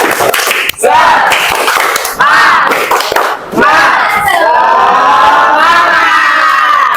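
A high school religion class claps a rhythmic cheer and shouts together in loud bursts, with children's voices rising in unison between the sharp claps.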